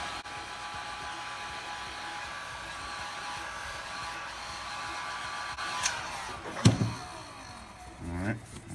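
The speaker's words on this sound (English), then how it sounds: "you want to heat up your foam a little bit" A heat gun blows steadily over craft foam while sealing a Wonder Woman shield kit part, a continuous airy whine with a few brief knocks and handling bumps near the end.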